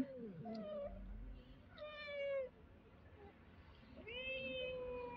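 A cat meows three times, drawn-out and plaintive, close by amid quiet outdoor background noise, with the third call the longest.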